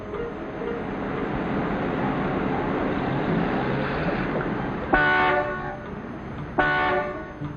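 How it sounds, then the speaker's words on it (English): Rush-hour city traffic in a 1950s street scene rumbles steadily as car horns blare, with two loud, sustained honks cutting through the din near the end. "Will you stop honking, Mac?"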